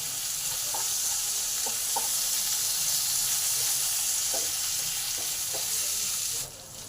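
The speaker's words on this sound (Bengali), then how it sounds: "আলুগুলোকে আরও 8 মিনিট চাপা দিয়ে দিই যাতে ভালোভাবে সেদ্ধ হয় আর ভাজাও হয়।" Potatoes with pointed gourd fry under a lid in a covered pan for a vegetarian korma, giving a steady, soft sizzle and hiss with faint crackles throughout before it drops away near the end.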